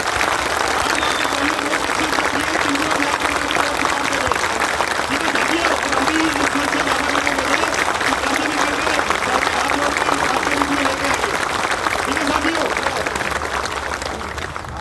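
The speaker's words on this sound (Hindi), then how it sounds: "साथियों तालियों में कमी नहीं होती है" Crowd at a Hindi public felicitation event applauds continuously, a dense, even wash of clapping sustained for about fifteen seconds with faint voices beneath.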